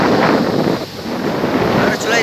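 Wind gusting at Kovalam beach near Chennai, a loud, continuous rushing roar pressing on the microphone for the full moment, with only slight swells in strength.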